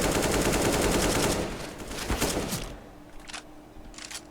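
Rapid automatic gunfire in Counter-Strike: Global Offensive rattles loudly in a dense burst for over a second, followed by a few scattered single shots and short bursts as the firing tapers off.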